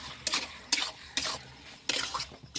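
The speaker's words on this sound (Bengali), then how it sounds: "এখানে মাংসটা আমার কষা হচ্ছে" Duck meat is sautéed with spices in an oiled pan, a close scraping stir returning in four bursts with soft sizzle between them, and no voices.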